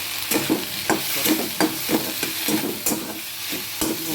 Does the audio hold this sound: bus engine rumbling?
no